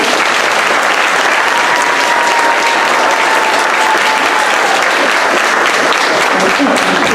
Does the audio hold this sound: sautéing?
no